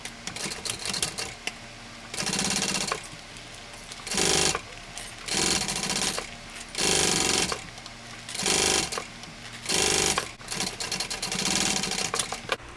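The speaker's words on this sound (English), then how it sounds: "Do a top stitch along this open edge at 1/8 of an inch." Sewing machine running top stitching along the open edge of a tote bag, in repeated bursts of steady mechanical chatter separated by short pauses, up close with no talking.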